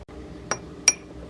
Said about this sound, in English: I'm gonna mix all my spices together